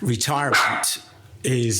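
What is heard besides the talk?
dog barking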